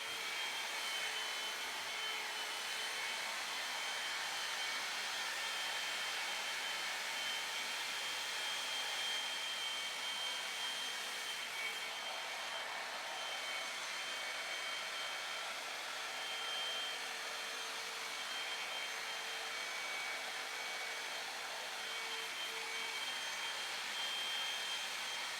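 A hot air brush blows a steady, loud whooshing hum as it dries and rolls hair, running continuously and close without pause or talk.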